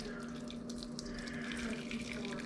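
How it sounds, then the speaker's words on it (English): Hot water at 175 degrees poured steadily over a tea bag for Southern sweet tea, a continuous close splashing and trickling stream with no break. "we're gonna pour our 175 degree water over our tea bag"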